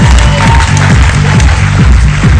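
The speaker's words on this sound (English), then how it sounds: "Everyone please give Jason a round of applause." Audience at a shipboard magic show claps for a volunteer, a loud burst of applause mixed with heavy rhythmic low thumping music underneath.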